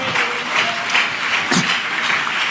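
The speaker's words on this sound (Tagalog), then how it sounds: "Yung sa malakas na palakpak para sa mahal na Panginoon" Church congregation clapping loudly in praise during a preaching service, a rhythmic swell of applause pulsing in waves, with a brief vocal cry partway through.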